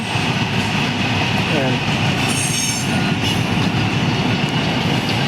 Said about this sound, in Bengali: আপনার ট্রেনের আওয়াজটা পাওয়া যায়